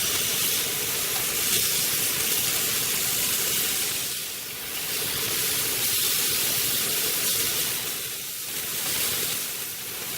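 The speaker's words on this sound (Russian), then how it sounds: "На разогретой до 250-270 градусов сковородке жарим стейк по 2 минуты на каждой стороне" A flat iron steak fries in a very hot pan, giving a loud, continuous sizzling hiss that swells and dips slightly every few seconds, with no voices over it.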